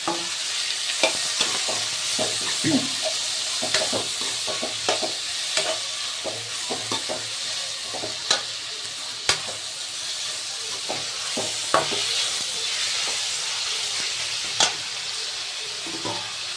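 Tomatoes sauté with onions and green chilies for a fish gravy, hissing in a steady sizzle as a spoon scrapes and taps the pan again and again, close and fairly loud.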